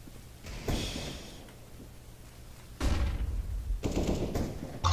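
Gunfire in Counter-Strike: Global Offensive, a few separate bursts of shots with a quieter stretch between them, moderately loud over faint game ambience.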